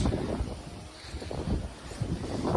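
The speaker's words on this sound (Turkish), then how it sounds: "Biraz rüzgarlı bir güne denk geldi" Gusty wind buffets the microphone in low, uneven rumbling bursts, rising and falling over a few seconds with no voices.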